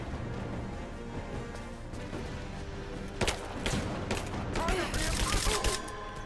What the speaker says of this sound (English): Grenade out! Throwing a grenade!